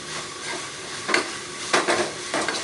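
Dried fish (karuvadu) sautéing in a pan for a ghee fish thokku, a continuous faint sizzle broken by three scraping stirs of a spatula against the pan, with no voice.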